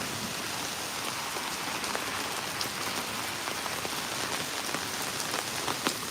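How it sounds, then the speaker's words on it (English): Heavy rain pours down in the Chughureti neighborhood of Tbilisi, a steady, dense hiss of drops striking surfaces that stays even and unbroken throughout, with no voices. "The rain is really strong."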